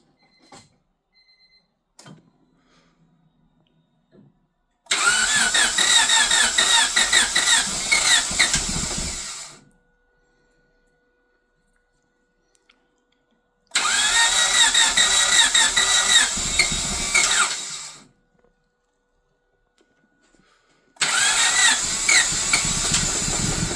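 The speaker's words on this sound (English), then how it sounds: "Let's see if this motor runs." Honda Civic Si with a freshly swapped engine being started, three loud, harsh cranking bursts of several seconds each separated by silence, close to the car, with no voices.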